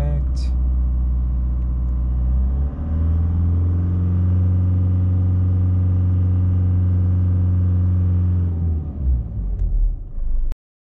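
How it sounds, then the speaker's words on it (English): A car engine idles steadily, then rises in revs and holds a higher, loud, close drone for several seconds before cutting off abruptly. "So I'll just speed up the engine a bit."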